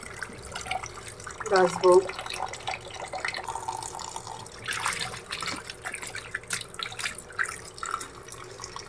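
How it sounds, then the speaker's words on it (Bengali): Chopped chicken pieces are rinsed under a running kitchen tap, with splashing and trickling water and wet handling noises, while a voice speaks briefly over it. "মাংসগুলো সব কেটে নিছি, এখন ধুয়ে পরিষ্কার করে"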